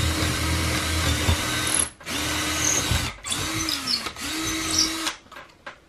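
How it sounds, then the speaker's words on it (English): A power drill bores a hole through the side of a workshop building wall in four sustained whirring runs, each stopping sharply before the next, close and loud. "I'm gonna use the drill to put a hole through the side of my building"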